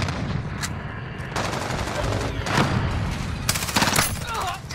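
Rapid bursts of automatic gunfire in the Modern Warfare multiplayer shooter, loud and close with several sharp volleys clustered near the end over busy battlefield noise.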